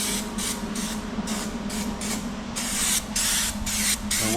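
Raptor bedliner coating sprayed onto a truck roll pan for a 1999 Chevy dually, a loud, steady hiss from a spray gun in repeated bursts, close up with a constant low hum underneath.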